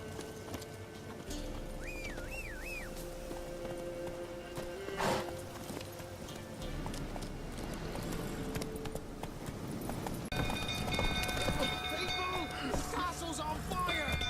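Hooves of Roach, Geralt's horse in the video game The Witcher 3, clip-clop steadily at a moderate distance, with a whinny and neighing over soft ambient background.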